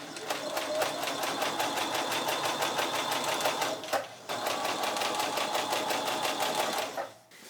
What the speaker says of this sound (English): I just put a little label into the lining before I sew it in